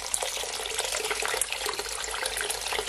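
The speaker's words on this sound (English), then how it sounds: "I'm gonna add at least 4 cups of hot water to it from the kettle" Hot water from a kettle pours steadily into a bowl for cooking Jamaican brown stew chicken feet, a continuous close splashing gush with no voices.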